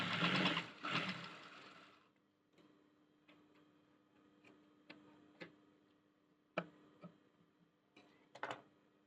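A sewing machine stitching a blouse runs in a short burst of whirring at the start, then falls to soft, sparse ticks and clicks, faint and close.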